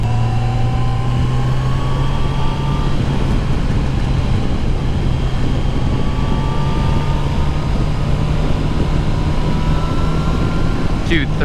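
A 2019 Yamaha FJR 1300 ES sport-touring motorcycle cruises in third gear, its engine a steady, loud droning hum blended with constant rushing wind noise.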